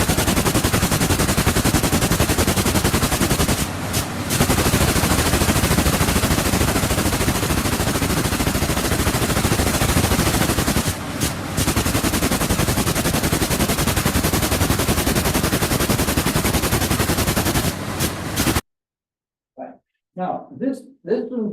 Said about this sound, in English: this loom does not use a traditional shuttle. These are guns here, and the weft is blown across through the wall.